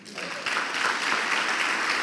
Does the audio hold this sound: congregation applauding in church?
yes